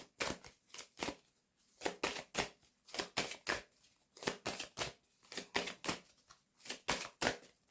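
Tarot cards being shuffled and laid down, with a series of quick, crisp riffling and slapping bursts in an uneven rhythm, close and fairly quiet, with no talk.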